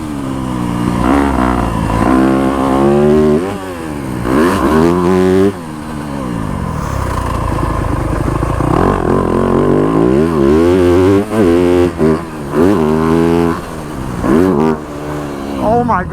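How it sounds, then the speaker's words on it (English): A brand-new Yamaha YZ250F dirt bike engine revs hard again and again, its pitch sweeping up and down, loud and close, with a few short sharp cracks among the revs. "This bike backfires like crazy. Like it backfires all the time."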